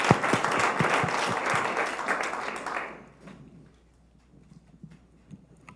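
Audience applause fills the room for two student presenters at a college event, a dense, loud burst of clapping for about three seconds that then cuts off to quiet room noise with faint stirring.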